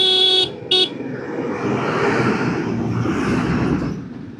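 A Kerala bus on the road gives two short, loud horn blasts, followed by the nearby rumble and whoosh of passing traffic.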